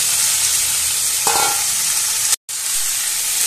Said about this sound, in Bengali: এবার দিয়ে দিচ্ছি সেদ্ধ করে রাখা ডুমুর আর আলু